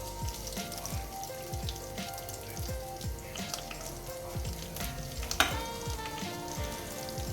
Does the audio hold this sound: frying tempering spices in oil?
yes